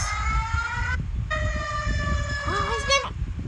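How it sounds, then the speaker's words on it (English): A wailing ambulance siren from an alarms-of-the-world compilation, loud and steady with sustained tones that drop out briefly, then return and sweep into a rising-and-falling yelp near the end. "it just sounds like a normal ambulance."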